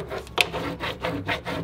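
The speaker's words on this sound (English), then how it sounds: "just put it back down and rub against it" Steady rubbing strokes across a transfer laid on a wooden cedar chest, rhythmic back-and-forth scraping, close and moderately loud.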